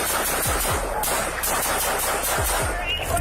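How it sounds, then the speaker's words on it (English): A loud burst of rapid gunshots, several cracks in quick succession over a dense, noisy background. "Shots fired."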